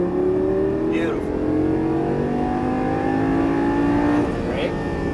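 A Lamborghini Gallardo LP550-2 accelerates out of a turn, its engine a steady, close drone that climbs in pitch as the throttle opens, with a voice talking over it.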